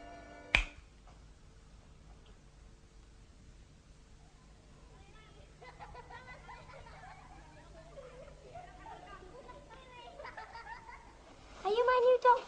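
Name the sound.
finger snap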